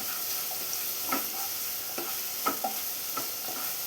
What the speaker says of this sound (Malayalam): ഇനി ഇതെല്ലാം കൂടെ നന്നായി തന്നെ ഒന്ന് ഫ്രൈ ചെയ്തെടുക്കണം